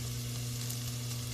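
Boiled, softened pork leg (pata) goes into a pan of sautéed onion and garlic, giving a brief, continuous close sizzle with a steady low hum underneath.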